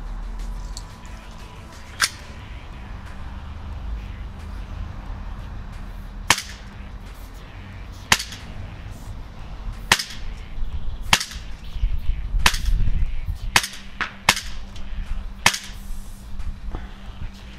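FNX 45 Compact pistol shots ring out one at a time at irregular intervals, each sharp crack followed by a metallic ping from small steel gongs at 7 metres, over a low steady hum.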